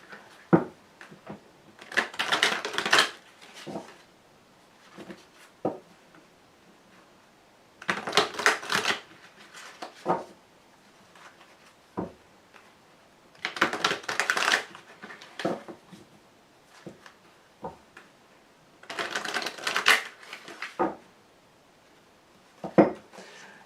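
A Wicca tarot deck is shuffled by hand in repeated bursts of crisp riffling and card slaps, several rounds separated by short pauses and occasional taps, close and fairly loud.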